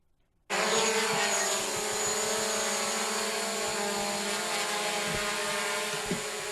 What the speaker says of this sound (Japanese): 住宅街を飛ぶドローン